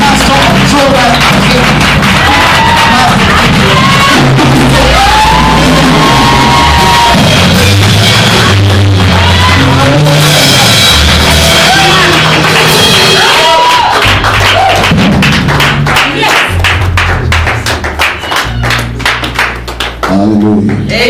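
A church congregation at All Grace Assembly in Johannesburg, South Africa, claps, shouts and whoops loudly to welcome the senior pastor, with sustained crowd applause and cheering across the whole stretch.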